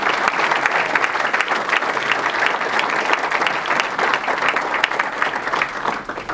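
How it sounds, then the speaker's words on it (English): Audience at a baseball fundraising dinner claps warmly in a dense, steady round of applause lasting several seconds, loud and continuous with no talking over it. "How about a round of applause for all those folks?"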